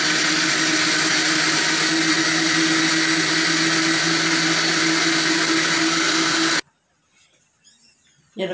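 A mixer grinder whirs loudly and steadily as it blends a lentil mixture with water and spices for several seconds, a harsh motor whine that stops abruptly, followed by near silence and a faint clatter.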